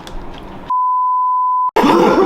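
A censor bleep blots out a swear in a Japanese staff question-and-answer chat: one loud, steady electronic tone lasting about a second, cutting off the talk and then giving way to it.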